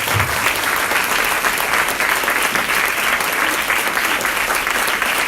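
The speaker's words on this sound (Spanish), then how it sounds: "ríndele un fuerte aplauso" A church congregation gives a strong round of applause, dense continuous clapping at full volume for the whole stretch, with no voices standing out.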